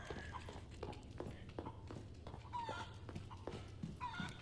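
A chicken clucks in Resident Evil 4 in short scattered bursts, faint and mixed with soft game footsteps and ambience, while a voice talks quietly underneath.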